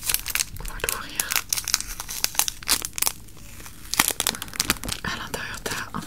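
A nail kit package being opened, with loud close crinkling and tearing of plastic wrapping in quick irregular bursts, while a soft voice talks over it.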